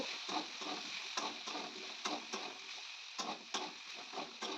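Vegetables frying in a pan with ginger and two cloves of garlic, giving a steady close sizzle with repeated scraping stirs and clinks throughout; no speech.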